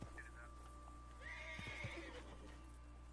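A female horse in the video game Red Dead Redemption 2 whinnies in a long, wavering call, with a few soft hoof clops and quiet background hum.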